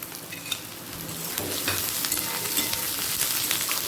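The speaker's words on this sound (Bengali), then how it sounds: "এরপর দিয়ে দিচ্ছি ক্যাপসিকাম" Capsicum goes into a pan of lightly browned onions for a chicken curry and is stirred, producing a loud, close sizzle with scraping stir strokes that grows fuller after the first second, with no speech.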